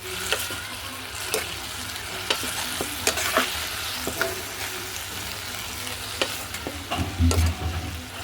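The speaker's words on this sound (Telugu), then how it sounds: "ఒకసారి తిప్పుకుందాం." Amaranth greens fry in a pan over a stove with a steady sizzle, while a utensil stirs and scrapes in sharp, irregular strokes close by.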